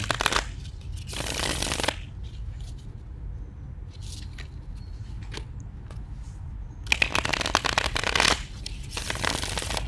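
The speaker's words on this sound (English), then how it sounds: "We'll be doing a small pre-shuffle for you" A Spanish tarot deck being shuffled in two bursts of rapid riffling and card flutter, one near the start and another later, close and crisp with quieter handling between and no talking.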